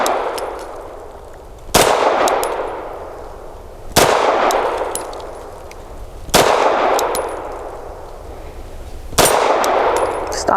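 Four loud 9mm pistol shots from a Tisas Tank Commander 1911 firing Blazer 115 grain brass ammunition, spaced a couple of seconds apart, each a sharp crack with a ringing decay and no talking between them.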